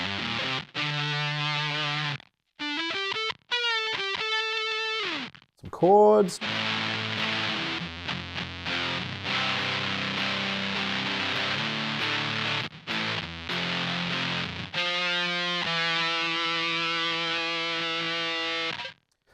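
A Fender Stratocaster plays chords through an MXR Blue Box octave fuzz pedal set with almost no octave blended in, giving thick, buzzy, sustained distorted chords with short gaps between strums and a brief spoken phrase early on.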